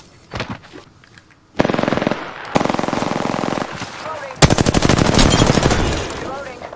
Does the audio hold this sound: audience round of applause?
no